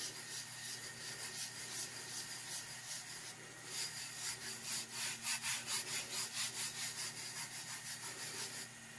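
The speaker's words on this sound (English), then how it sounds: "So I'm just going to burnish this again." Steady rubbing and scraping as a vinyl decal is burnished onto a pale pink tack, a continuous close friction sound with a faster rhythmic back-and-forth stroking in the second half.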